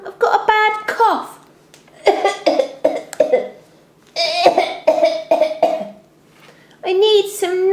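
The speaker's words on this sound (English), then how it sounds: "I've got a bad cough." A young child coughs in short bursts between bouts of chatter, the coughs loud and close.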